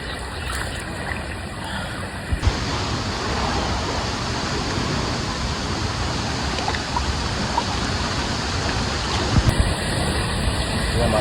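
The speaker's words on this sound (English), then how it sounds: "this waterfall is crazy" A powerful waterfall in La Fortuna, Costa Rica, roars as a steady, dense wall of rushing water that stays loud and unbroken throughout.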